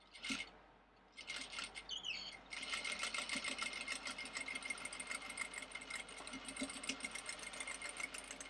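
A sewing machine stitches fabric for a pocket, a fast steady close mechanical whir after a brief pause and a few small handling sounds at the start.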